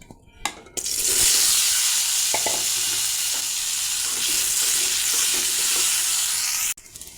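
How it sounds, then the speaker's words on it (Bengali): Potatoes fry in oil in a pan, giving a loud, continuous sizzle for about six seconds. A few brief clinks and stirring knocks come at the start and end. "এখন আলুগুলো ভেজে নেব।"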